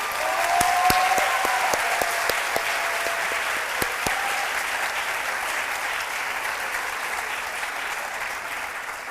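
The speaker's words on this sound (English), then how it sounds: "to stand for a round of applause for them as well" A round of applause fills the room at a scholars luncheon, with steady close clapping from a seated crowd that slowly thins and fades.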